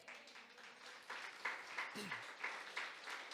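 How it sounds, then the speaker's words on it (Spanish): Church congregation applauding the Lord during a Spanish-language sermon, a steady wash of many hands clapping at moderate distance with a few sharper bursts, voices faintly mixed in. "Denle un aplauso al Señor"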